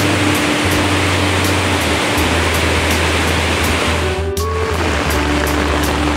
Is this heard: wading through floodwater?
yes